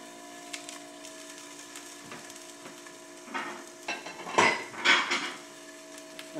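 Broccoli sizzling quietly in a pan while a utensil stirs and scrapes it, with clanks of metal against the pan growing louder in short bursts toward the end.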